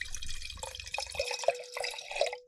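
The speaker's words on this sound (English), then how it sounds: "That was a can pour." Liquid poured from a can into a glass, a fizzy trickling wash with a few sharp drip-like splashes near the mic, fading out at the end.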